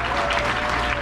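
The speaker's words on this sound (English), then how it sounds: "give them a round of" Applause at a health care hall of fame awards ceremony, a dense, even wash of clapping from the audience lasting about a second, with no voice over it.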